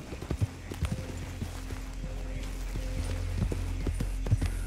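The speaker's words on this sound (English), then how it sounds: "Come on, horse. Go." Horse hooves clip-clop at a steady galloping rhythm in the video game Red Dead Redemption 2, loud and close, with a low ambient drone underneath.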